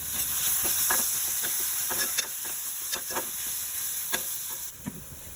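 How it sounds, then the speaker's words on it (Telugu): Pieces of raw mango frying in a pan for a fish egg curry, a constant hissing sizzle broken by several sharp clicks of stirring. "పులుపులో ఇలా బాగా వేయించుకోవాలి."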